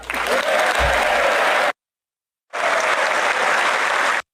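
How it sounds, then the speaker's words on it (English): Members of Congress standing and applauding in the chamber as King Charles III is presented, loud dense clapping in two bursts separated by a brief silent gap. "You notice how they're all standing and clapping"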